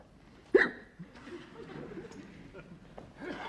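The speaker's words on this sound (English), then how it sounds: "I've got hiccups as well" A man hiccups once, sharp and close at the start, in a department store sitcom scene, followed by faint murmuring and low background chatter.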